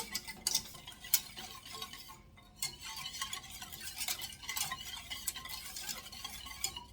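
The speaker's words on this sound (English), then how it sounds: "Get it mixed up really well so your cornstarch isn't stuck to the bottom." A spoon stirs a cornstarch and milk mixture in a pot for coconut cream cake, with a continuous close scraping and clinking of utensil against the pan, no voices.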